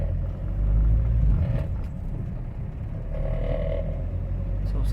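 A Hyundai Verna CRDI diesel car with late pickup and jerking trouble rumbles along on a test drive, a steady low engine drone with brief surges and faint creaks from the cabin, no talking.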